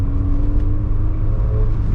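Car engine running steadily from inside while driving, a loud continuous low hum and drone with no talking.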